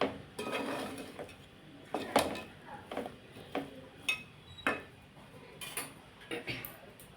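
Cooked rice being mixed with coriander leaves in a pan for vangi bath, heard as repeated clinks and scrapes of a utensil against the pan in an irregular rhythm, close by, with no talking.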